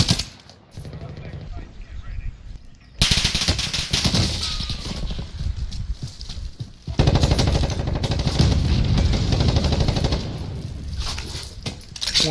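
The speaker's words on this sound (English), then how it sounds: "I'm taking fire." Gunfire in an online multiplayer shooter game, bursts of rapid automatic shots and single cracks over a constant din of battle, loud and nearby, with a brief quieter stretch before the firing resumes.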